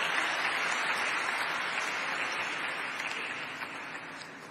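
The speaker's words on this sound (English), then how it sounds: "Let's have a huge round of applause, please." An audience claps for a chairman stepping on stage at a stock exchange share listing ceremony; sustained, even applause heard from a distance, gradually tapering slightly toward the end.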